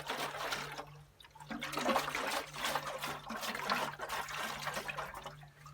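Water pours and gurgles steadily out of a rusty fuel tank, a continuous splashing, trickling drain close by with a low hum underneath and no talking.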